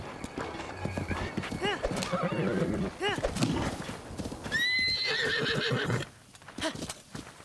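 Hooves clip-clop quickly beneath rhythmic snorts and breathy huffs in Breath of the Wild, then a horse lets out a loud, shrill whinny; a voice talks over parts of it.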